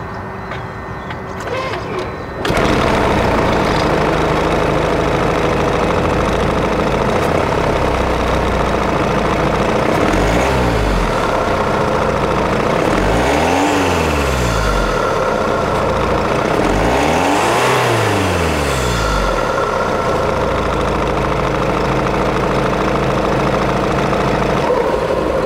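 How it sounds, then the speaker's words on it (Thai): A Mercedes-Benz E-Class W212 with a hybrid electric motor and seven-speed automatic starts up and idles loudly close by, then is revved several times, with rising and falling engine sweeps before settling back to idle. "มาฟังเสียงเครื่องยนต์กันครับ"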